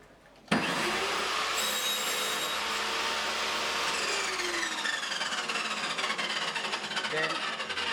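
A wood-trimming machine cutting wood to size for toothpicks in Ghana starts abruptly and then runs loud and continuous, a steady abrasive whine with a sawing, rubbing texture.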